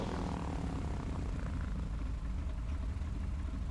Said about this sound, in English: let's pull that power to idle and make sure that both engines continue to run.